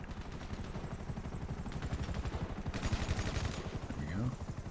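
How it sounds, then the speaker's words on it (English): Sustained automatic gunfire in the video game GTA Online, a fast steady rattle of shots at moderate loudness, with a brief voice near the end. "I'm still shooting."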